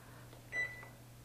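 An oven's control panel gives one short electronic beep as it is set to preheat to 350 degrees, a clear tone over a steady low hum in a quiet kitchen.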